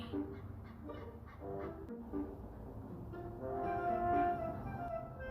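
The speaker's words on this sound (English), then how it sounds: "No, it's just a bird." A bird calls a few times with honking, fowl-like notes, growing louder toward the end over a low background rumble.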